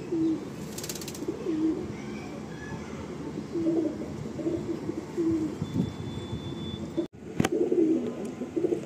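Pigeons in a Madrasi pigeon loft coo softly in repeated low murmurs, several birds overlapping at close range, with brief rustles and a wing flutter near the end.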